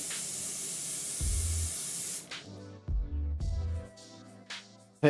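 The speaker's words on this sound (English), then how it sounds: "Definitely got the spray a little bit better on here." An airbrush sprays paint onto a scale model in several bursts of hiss, one long opening spray followed by shorter on-off pulses, close and fairly quiet.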